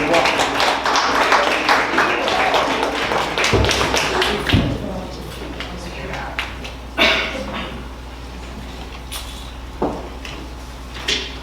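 Audience at a university African American Read-In event clapping, a dense burst of applause that thins into scattered claps and thumps, with voices mixed in.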